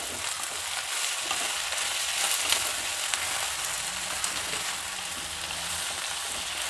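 Brinjal pieces fry in plenty of oil over a medium flame for vangibath, giving a steady, close sizzle with light stirring throughout and no voices.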